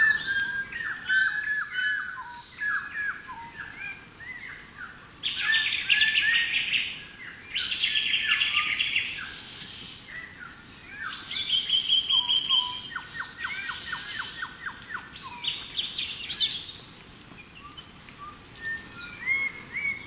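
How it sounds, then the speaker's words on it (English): Birds of paradise and other birds call in a New Guinea highlands forest, with repeated chirps, whistles and buzzy trills rising and falling over a constant insect hiss, fairly near and with no voices. "And we listen to the sound of the bird of paradise."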